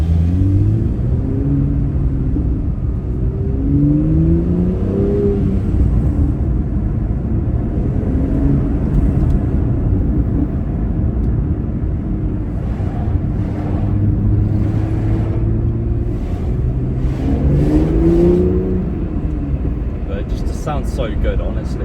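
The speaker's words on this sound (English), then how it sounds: "The twin scroll just sounds so cool on the motorway when you're bombing it." A 2017 BMW M2 3.0i with a manual gearbox and twin-scroll turbo engine cruises on the motorway in sixth gear, a loud, steady low exhaust drone with rising and falling swells, heard from inside the car.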